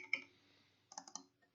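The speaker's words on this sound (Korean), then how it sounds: "더블 클릭 해주시면은" A computer mouse double-clicks in engineering simulation software during a response surface optimization setup, two quick soft clicks standing alone in a quiet room, with a lone earlier click and a faint tap trailing after.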